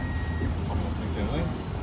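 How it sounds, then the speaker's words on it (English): A Kia Rio GT Line parking sensor gives a faint electronic beep while reversing close to an obstacle, heard briefly under steady cabin noise. "it's beeping, right, because we're very close"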